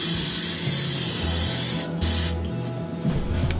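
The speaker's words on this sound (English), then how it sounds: "spray it with cooking spray." A steady, hissing spray from an aerosol can of cooking spray coating a bowl, close and continuous, with a short pause near the end.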